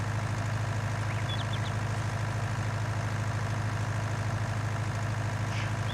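A John Deere 4020 two-wheel-drive tractor in Farming Simulator 19 labours up a hillside, giving off a steady, continuous low engine drone with no variation or talk.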